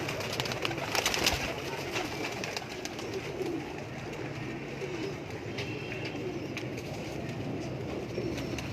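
A large flock of breeding pigeons coos steadily in a loft in Lahore as dusk falls, a dense, soft, continuous murmur.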